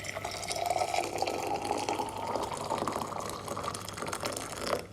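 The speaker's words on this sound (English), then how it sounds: "pouring from the same kettle into the same glass" Water pours from a kettle into a glass as a continuous gushing fill whose tone rises gradually while the glass fills, then tapers off near the end.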